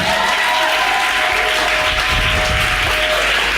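Church congregation applauds as a joyful offering of acclamation, thick continuous clapping from many hands filling the room loudly, with a sustained tone ringing beneath it.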